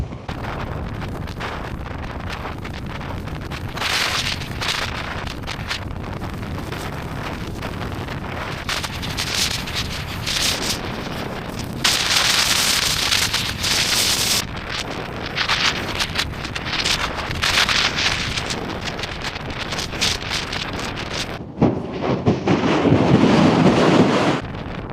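Gale-force wind sweeps a steep mountain hillside, roaring and buffeting the microphone in a continuous rush that swells into stronger gusts midway and again near the end.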